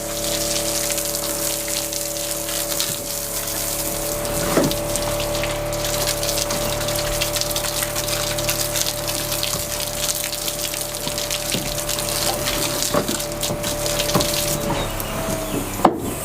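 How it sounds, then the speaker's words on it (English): A regular garden hose at standard pressure sprays water steadily onto the log walls of a home, a continuous rushing hiss that stays loud and even throughout, with a constant mechanical hum underneath. "You just use a regular garden hose, just regular, you know, standard pressure."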